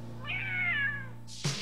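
A cat gives one drawn-out meow, clear and close, followed by a short sharp noise at the end.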